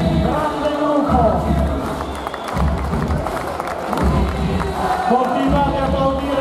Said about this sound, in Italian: continuate a applaudire perché se lo meritano.